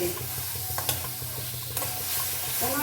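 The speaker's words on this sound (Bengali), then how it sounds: "না দেখালে হবে না কষানোটা কীভাবে আমি কমপ্লিট করছি" Curry being stir-fried (kosha) in a pan, with a steady sizzle under repeated stirring and scraping strokes, close and continuous, with no talking.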